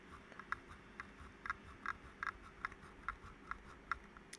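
Logitech K470 setup mouse scroll wheel turning, about a dozen faint, evenly spaced ticks close by, quiet, no talk.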